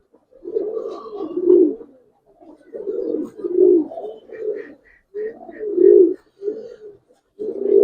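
Silver Giribaz pigeons coo close by in repeated throaty, rolling bursts separated by short pauses, loud and clear with no talking.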